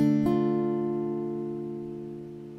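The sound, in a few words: minor chord played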